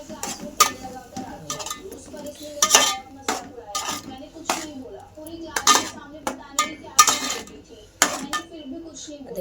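Eggplant being stir-fried in a pan with masala, a spoon scraping and clinking against the metal in repeated sharp strikes over a low background, close and fairly loud.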